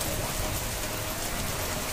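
Heavy rain pours down in a dense, constant hiss that fills the whole clip, loud and even with no pauses.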